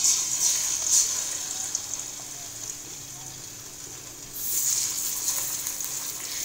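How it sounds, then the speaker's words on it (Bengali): Chicken roast pieces fry in hot oil in a wok, giving a steady, close hiss of sizzling that swells slightly toward the end. "আমি ভেজে দেখাচ্ছি আপনাদেরকে কতটুকু ভাজবো আমি"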